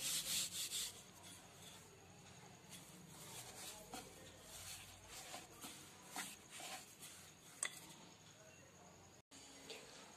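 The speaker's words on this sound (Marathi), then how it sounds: "तो आता आपल्याला छान प्रकारे असा लाटून घ्यायचा आहे" A rolling pin rubs over a ball of donut dough, giving soft repeated scraping strokes at a low level, with a voice speaking faintly underneath.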